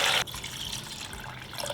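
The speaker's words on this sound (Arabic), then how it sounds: "بزيد عليها المي" Water poured into a hot pot of browned meat for an okra stew: a short, bright splash for the first quarter second, then a steady low simmering wash with faint bubbling.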